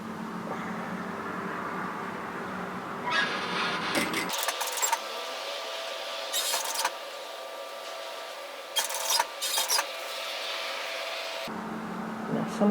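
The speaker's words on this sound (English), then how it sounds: "I'm going to stitch directly on top of my gathers" A sewing machine stitches over the gathers on a bias-cut slip nightgown, running in several short bursts with quiet pauses between them, close and clear, with no talking.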